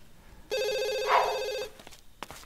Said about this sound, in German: da muss das Telefon gehen